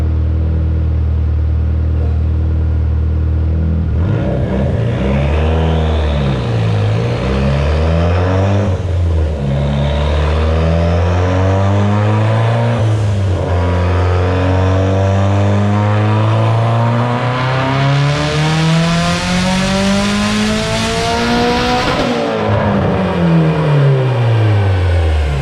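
A tuned Mitsubishi Evo X with Forced Performance turbo, Injector Dynamics injectors and flex fuel revs hard through repeated pulls, its loud engine note climbing steeply through the gears with boost and exhaust roar, no talking.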